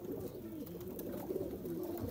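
Pigeon of the Dub wala Madeen breed, cooing softly and steadily in a low, continuous murmur over faint background noise, with no talking.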